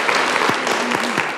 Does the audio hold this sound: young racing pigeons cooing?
no